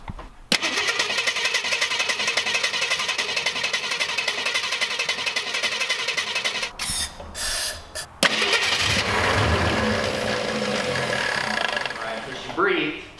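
A 1966 Mustang engine cranks over and over on the starter in a long steady whirring churn without catching, pauses briefly, then cranks again, loud and close, with voices talking nearby.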